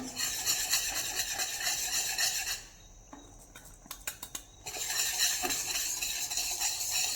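Besan flour being stirred in a pan over a low flame for Mysore pak, lumps broken up with a spatula; a steady scraping, rubbing stir with a quieter pause of a few sharp clinks midway, no talk.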